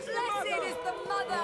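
Murmuring crowd chatter in the medieval adventure game A Plague Tale: Requiem, a brief babble of many overlapping voices at moderate level, with nearer talk on top.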